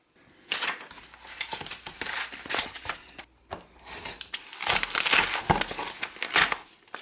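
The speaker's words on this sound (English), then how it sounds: "I'm just going to go ahead and start cutting these pages" Book pages cut with an X-Acto blade along a straight edge, a series of close scratchy, rasping strokes with short pauses between them, no speech.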